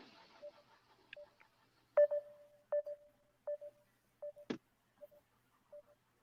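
A telephone dialing a call: a quiet series of short touch-tone beeps at irregular spacing, each a brief clean tone against near silence.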